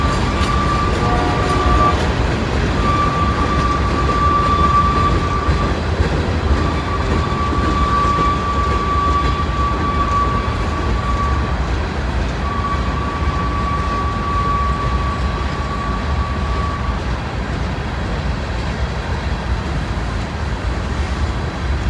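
A loaded Norfolk Southern freight train with tank cars rolls past steadily in cold weather, with a continuous heavy rumble and a thin high metallic squeal that comes and goes for the whole stretch.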